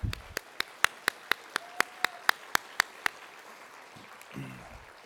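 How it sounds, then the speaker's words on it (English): Audience at the Shingo Institute awards gala in Atlanta applauding exhibitors and affiliates, sharp evenly spaced claps close by, about a dozen in a steady rhythm that stop abruptly, followed by a brief murmur of voices. "Let's give our exhibitors and our affiliates a round of applause if we could."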